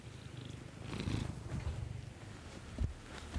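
A Holstein-patterned domestic cat purring close by in a steady, rumbling rhythm with soft breathy pulses, heard alone without talk.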